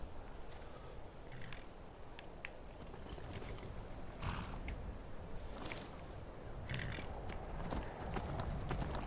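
Horse hooves clop at a steady walking pace in the Skyrim video game, close and continuous over a low outdoor ambience, with no talking.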